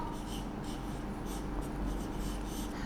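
Chalk or a marker scratches across a classroom board during a lecture, a continuous close rasping with small strokes and pauses in a steady low rumble of room noise.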